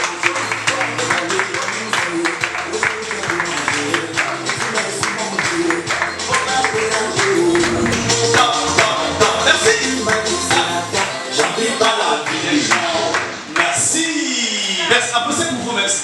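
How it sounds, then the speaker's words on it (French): Audience at a white cane handover ceremony for visually impaired people claps steadily and loudly throughout, the dense applause running on under a speaker's voice. "Applaudissez pour vous-même, s'il vous plaît"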